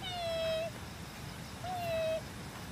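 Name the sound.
cat meowing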